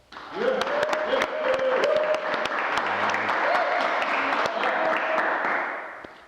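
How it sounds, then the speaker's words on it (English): A live-show audience breaks into a steady round of applause, dense clapping swelling quickly and holding for several seconds with a few voices calling out over it. "Give him a round of applause."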